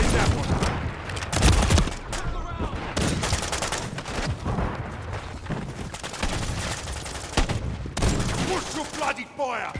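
Rapid gunfire in a team deathmatch video game, dense overlapping automatic bursts and single shots, loud and continuous, with shouted voices mixed in under the shooting.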